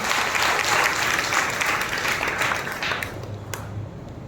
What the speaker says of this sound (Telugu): బిగ్గరగా చప్పట్లు కొట్టి ప్రభువు భయపరిచాడు